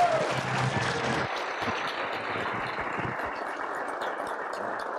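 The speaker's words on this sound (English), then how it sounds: "please acknowledge them with a round of applause" Audience applause at a university speech showcase, a steady broadband clapping that gradually thins and softens over a few seconds, with no talking over it.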